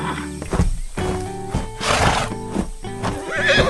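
A cartoon horse neighs and whinnies repeatedly in a cheerful animated farm scene, loud and close with fluttering, wavering calls and clip-clop beats, mixed with background music.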